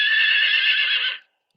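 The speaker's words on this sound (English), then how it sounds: "Horse says hello like this. Neigh, neigh, neigh." A horse neighs once in a single loud, drawn-out whinny lasting just over a second, close and clear, then silence.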